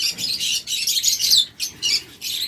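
A pair of violet opaline lovebirds chirps in quick, shrill bursts, several close, loud tweets with short gaps between them, no voices.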